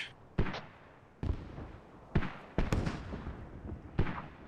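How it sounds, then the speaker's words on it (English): Airstrike explosions in the military shooter Squad during a competitive match, a series of about five heavy booming blasts spaced roughly a second apart, each with a rumbling tail, loud and fairly close. "Careful airstrike, guys."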